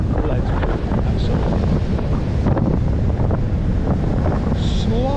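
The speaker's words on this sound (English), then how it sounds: "Slightly less wind here and a little bit of protection from the cliffs to the left." Strong wind buffets the microphone on an open beach near cliffs, with a steady rushing roar and gusty bursts and a faint wash of surf beneath.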